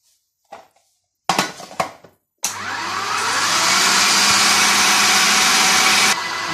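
An electric mixer spins yeast, salt and dry ingredients for sweet sardine bread dough, a steady loud motor whir running several seconds after a few short knocks and clatters.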